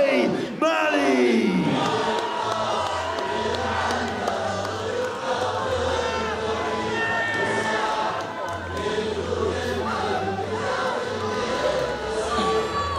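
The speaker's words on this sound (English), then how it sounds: "Malley, perhaps the biggest round of applause of the evening so far." Crowd noise fills a fight venue during the blue-corner introduction of lightweight Jay Malley at Wicked N' Bad 5, a loud, sustained mass of cheering and shouting that stays dense throughout, with an announcer's voice over it.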